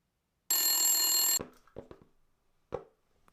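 Telephone bell in an audio drama, one loud electric ring of about a second that cuts off abruptly, followed by a few soft clunks and a sharper knock as the receiver is handled.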